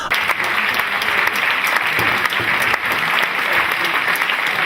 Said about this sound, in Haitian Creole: On ba un gros applaudissement pour ça